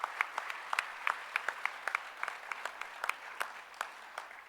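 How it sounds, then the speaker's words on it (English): A small group gives sparse, distinct applause for absent Creative Manufacturing students. The individual claps come through clearly and stay modest in volume the whole time. "a big hand of applause for them."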